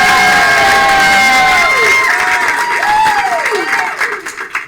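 A studio audience at a live comedy improv show bursts into loud cheering and applause with whoops, a dense continuous roar close by that fades slightly toward the end.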